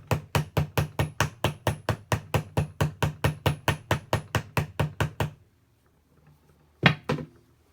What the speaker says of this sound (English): Maybe I'll just use the hammer.